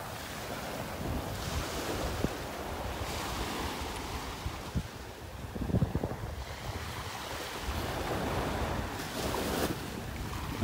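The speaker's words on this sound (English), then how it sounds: "Now the wind's hitting me right in the face." Wind and surf on the beach at Delnor-Wiggins in North Naples, Florida: continuous rushing wind buffeting the microphone over a steady roar of breaking waves, loud and close throughout, with no talk.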